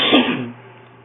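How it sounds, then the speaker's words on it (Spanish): A single sharp cough breaks into a throat-clearing rasp, close and loud, then fades quickly into quiet. "a veces cierro la línea porque pues me da tos y tengo que toser."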